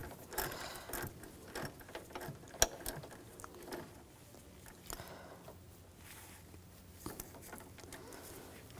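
Hand ratchet tightening a bolt on the alternator of a 2006-2010 BMW 550i, with irregular clicking strokes and scattered metallic taps close up in a garage.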